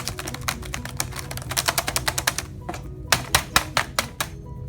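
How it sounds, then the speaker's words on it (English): Rapid, hard keystrokes hammer a Chromebook keyboard, a close, loud run of sharp clacks that slows into heavier, separate strikes near the end. "Do not abuse the keyboard."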